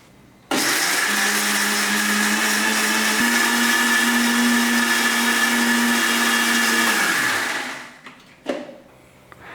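A mixer grinder whirs loudly and steadily for about seven seconds grinding tomato and onion chutney, its motor pitch shifting partway through, then winds down and stops.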